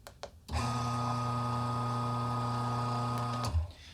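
A Bentwood Vertical 63 commercial coffee grinder motor whirs up empty, holds a steady, even hum for about three seconds with no load, then cuts off with a short spin-down; fairly quiet.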